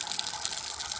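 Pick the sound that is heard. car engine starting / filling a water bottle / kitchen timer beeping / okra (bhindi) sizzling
filling a water bottle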